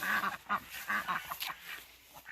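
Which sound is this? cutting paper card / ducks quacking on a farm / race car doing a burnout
ducks quacking on a farm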